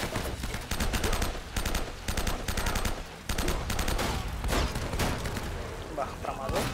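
Rapid bursts of gunfire in the video game Uncharted: Drake's Fortune crackle in quick succession, loud and dense, with game music or effects running underneath.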